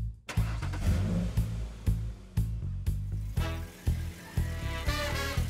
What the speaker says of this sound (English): Wow, that's a nice car